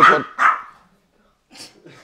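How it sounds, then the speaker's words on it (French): A dog barks twice in quick, loud bursts, then gives a few softer yips after a short pause, close by and alone. "Il vient, il t'aboie dessus, son chien."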